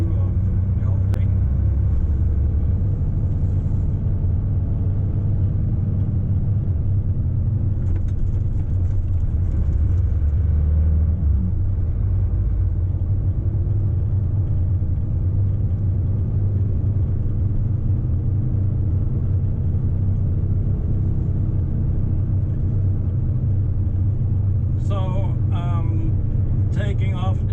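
A truck descends the steep road down from Holmenkollen in Oslo, Norway, its engine a steady low rumble heard close from inside the cab for the whole stretch, with faint rattles and brief squeaks near the end.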